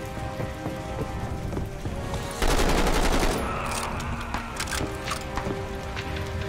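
A short, loud burst of rapid gunfire erupts in Call of Duty: Vanguard over steady crackling battle noise, then gives way to scattered sharp shots.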